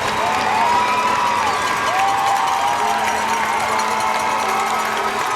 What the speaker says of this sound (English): That got the crowd fired up